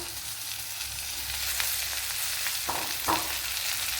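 Chopped tomatoes hit a pan of frying bitter gourd, giving a steady close sizzle with stirring scrapes and a couple of brief louder bursts as the pieces go in, with no talking.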